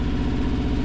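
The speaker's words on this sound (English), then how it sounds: "Sorry about the noise of the engine in the background." A sailboat's engine gives a steady, loud drone with a low rumbling throb, running continuously up close.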